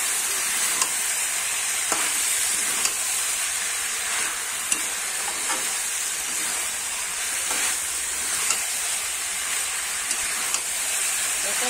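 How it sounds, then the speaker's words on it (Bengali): A Bengali vegetable curry with fried lentil dumplings being stirred and sautéed, a continuous steady sizzle with faint periodic scrapes and taps of a spoon at a moderate distance. "আর একটু আমি নাড়াচাড়া করে কষিয়ে নেব।"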